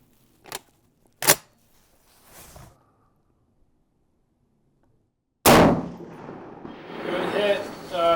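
A Springfield M1A rifle firing at a 300-yard range, with a few sharp cracks and clicks and then a loud close report followed by the noise of handling and movement.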